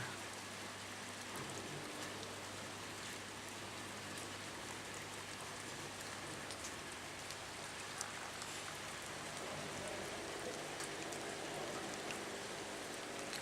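Rain falls steadily outside an ancient inn along the Camino, a soft, even hiss of drops on surfaces with no break and no voices.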